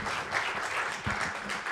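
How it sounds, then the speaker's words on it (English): A conference audience at a Python meetup talk gives a brief burst of applause, a dense patter of clapping hands that lasts under two seconds, moderately loud and with no talking over it. "Big round of applause"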